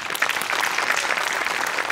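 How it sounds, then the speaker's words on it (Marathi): Applause from a studio audience after a comedy performance on a Marathi comedy show, dense steady clapping that is fairly close and continues throughout with no pause. "तुझ्या अटेम्प्टसाठी टाळ्या."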